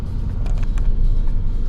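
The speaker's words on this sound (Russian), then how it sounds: "Фух, тормоза сработали." A Mercedes W202 car rolls to a stop inside a garage, its brakes bringing it to a halt with a low close rumble and a few soft squeaks over about two seconds.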